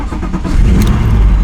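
A Nissan R32 Skyline, brought back to life after long sitting, rumbles loudly and steadily close by as the engine catches and builds toward a rev, with no talk.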